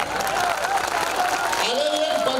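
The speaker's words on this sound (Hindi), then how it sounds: "इतनी कम तालियां" Audience applause at a Hindi comedy poetry gathering in Banaras, a steady wash of clapping heard under a performer's ongoing voice throughout.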